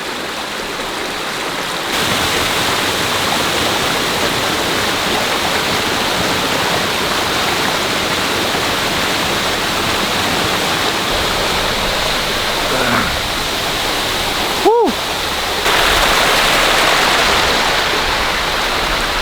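A waterfall in Khao Sok National Park roaring loud and constant, a dense rushing wash of falling water close by with a brief knock near the end.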